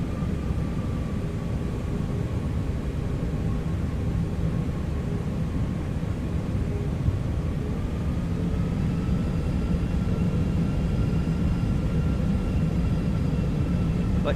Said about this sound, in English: the taxiing in this game is so much better